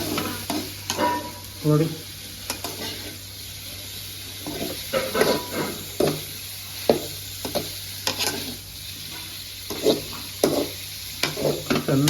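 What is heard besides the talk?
paneer frying and being stirred with turmeric in a pan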